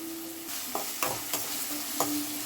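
Chopped onion with mustard seeds and salt fries in a pan, a constant sizzle broken by several sharp scrapes and taps of a spatula, close up and without talk.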